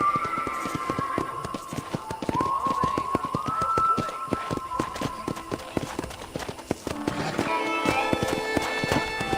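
Steady clip-clop of horse hooves trotting nearby in Red Dead Redemption, with dense repeated thuds alongside musical tones and faint background voices.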